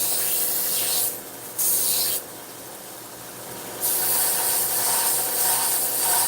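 A knife is sharpened against an abrasive using an angle guide, heard as three loud, rough sanding strokes of a second or two each, separated by quieter pauses where only a low hum remains.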